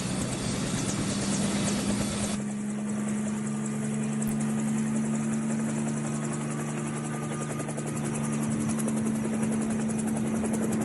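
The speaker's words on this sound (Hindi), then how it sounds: "अब अगर हेलीकॉप्टर का इस्तेमाल हुआ है, जो अमेरिकी हेलीकॉप्टर है, ब्लैक हॉक हेलीकॉप्टर का" An American Black Hawk helicopter in wartime footage from the Russia–Ukraine conflict, its steady rotor thrum and turbine whine loud and continuous throughout, with a rougher wash of noise in the first couple of seconds.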